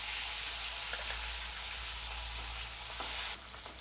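Fish pieces fry in hot oil in a pan, a steady close sizzle with faint scrapes of stirring, and the hiss drops away near the end.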